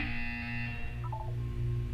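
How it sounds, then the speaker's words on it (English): A buzzer in the video game Portal 2 sounds as a steady electronic tone that holds for about a second, then breaks into a few short stepped blips over a low constant hum, with no talk. "When you hear the buzzer, look down at the floor."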